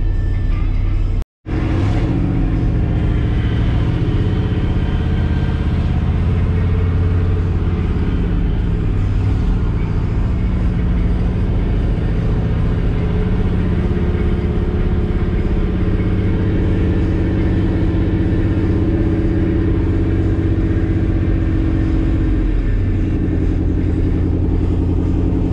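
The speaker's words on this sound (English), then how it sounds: "A good test for the winch on the CJ7." A Jeep CJ7's winch pulls the vehicle straight out, heard as a loud, continuous engine drone and rumble with a steady whine, close by and sustained throughout after a brief cut near the start.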